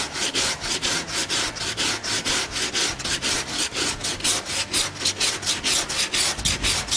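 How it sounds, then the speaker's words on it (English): Hardened body filler is sanded with 40-grit paper on a board file in steady back-and-forth strokes, a rhythmic, close, raspy scraping that continues throughout with no talk. "Once the filler's hardened, we'll start with 40 grit on a board file."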